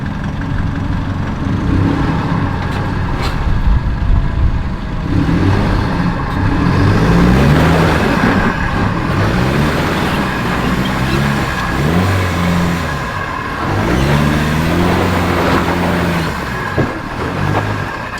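A 4WD with twin lockers claws up a steep hill on the Lake Cumberland Track in Tasmania, its engine revving hard in repeated rising and falling bursts, loud and close, with no talking.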